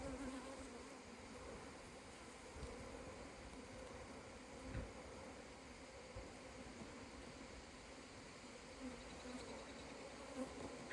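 A steady, faint drone of many honeybees buzzing together at an open hive during an inspection, continuous and even throughout, with occasional soft bumps and no talking.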